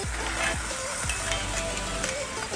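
Meatloaf sizzles in a pan over an outdoor campfire, a close, crackling fry with soft pops and hiss running continuously through the short moment.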